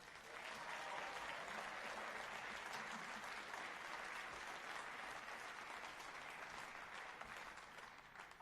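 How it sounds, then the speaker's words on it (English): Audience applause for Harrogate Band, a brass band at a university brass band contest, a steady dense clapping from a large crowd sustained throughout without talk. "can we have a round of applause for Harrogate Band?"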